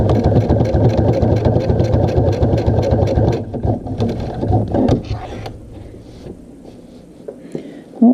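A sewing machine stitches a strap in a fast, even mechanical chatter for about three seconds, then stops, leaving a few clicks and handling noises.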